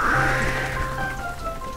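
Rain falling in a children's TV show with banana characters, a steady, broadband hiss that stays even throughout, with faint tonal music-like lines running underneath and no speech.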